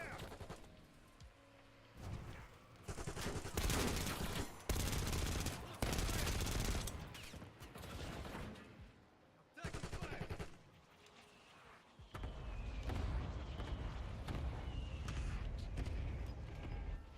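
Bursts of video game gunfire in a multiplayer shooter, with volleys of rapid automatic shots and pauses between, some close and loud, others quieter, going on for much of the stretch.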